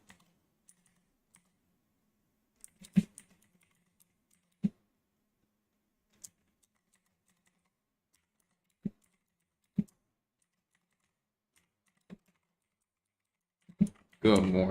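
Sparse keystrokes on a computer keyboard, single sharp clicks scattered irregularly over a quiet background, with a short denser burst of sound right at the end.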